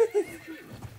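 In Battlefield 1's open beta Conquest mode, a game horse gives a short, loud, close whinny that lasts about a second, with a faint clip-clop at its edge.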